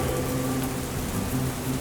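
Steady rain falls on a surface in a forest setting, a dense continuous hiss of drops with no voices, heard close and fairly loud.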